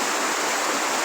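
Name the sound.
floodwater flowing after heavy rain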